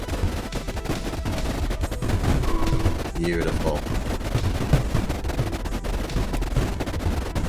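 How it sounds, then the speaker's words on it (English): Rapid cannon fire in the strategy video game Creeper World, a dense stream of sharp repeated bangs and crackles under layered game sound effects, with someone speaking briefly over it. "Cannon fire is softening up."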